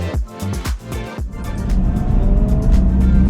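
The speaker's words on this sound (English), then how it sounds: "That E90 sounds absolutely beautiful." A BMW E90 sedan drives past at a car park, its engine note rising with thumping low pulses before settling into a loud, sustained rumbling roar close by.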